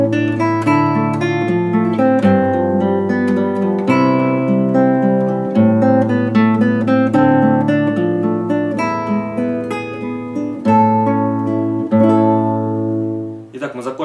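Guitar plays the third part of a melody from the animal-world TV theme, a continuous melodic line of plucked notes over sustained bass, ending on an arpeggiated chord; no voices.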